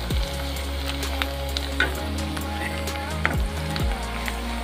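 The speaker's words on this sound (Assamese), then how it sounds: "আৰু অকণ ভালকৈ ভাজি ল'ম মই।" Onions fry with a bay leaf in hot oil for a chicken curry, a steady close sizzle broken by scattered pops and faint stirring scrapes.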